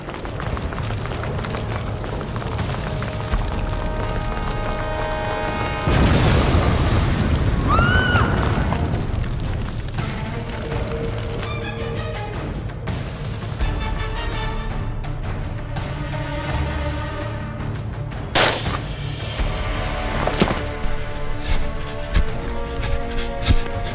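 A war film's battle scene of tanks and cannons firing on a ghetto: repeated deep booms and rumbles with whistling, tonal shrieks and scattered bangs layered over a continuous low roar.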